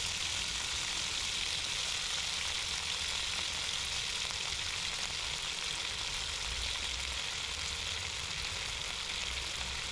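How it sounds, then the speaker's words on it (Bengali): Cauliflower curry sizzling and frying steadily in a kadai on an induction cooktop, a continuous loud hiss with no talking. "আর এইবার আমি এই কড়াইতেই বসাবো আমার তরকারিটা"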